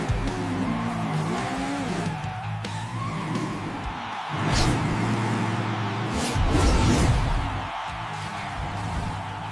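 A cartoon monster truck and Sonic racing toward the finish line: loud continuous engine roar with rising revs, tire squeals and whooshing surges, dense and close throughout.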